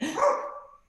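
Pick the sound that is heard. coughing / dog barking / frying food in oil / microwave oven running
dog barking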